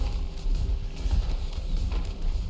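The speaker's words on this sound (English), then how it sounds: "You got 4 horses here." Four horses gallop in Total War: Warhammer, a close, continuous drumming of hooves with a loose, rolling rhythm and no voices over it.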